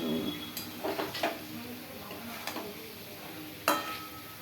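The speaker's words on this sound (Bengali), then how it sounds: "সমস্ত দিয়ে এই যে কষাচ্ছি" A spice paste with cashews, poppy seeds, melon seeds, tomato, Kashmiri chilli and coriander is stirred and fried in a pan, with a soft sizzle under a few close, scraping spoon strokes and sharp clicks spaced out.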